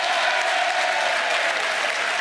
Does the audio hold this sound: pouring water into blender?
no